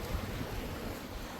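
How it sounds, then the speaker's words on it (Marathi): Sea waves on the beach at Mithbav on the Konkan coast make a steady, broadband roar of surf mixed with wind buffeting, with no voices. "पहा किती मस्त समुद्र किनारा आहे ना हा"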